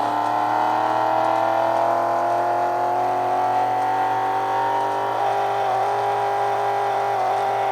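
Koenigsegg Regera racing in a video game on its final lap, engine holding a steady, loud droning whine with harmonics slowly rising and falling, continuous throughout with no talk.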